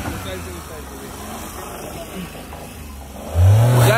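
A car stuck off-road, its engine droning low and then revving hard in a loud rising burst near the end, with people talking over it.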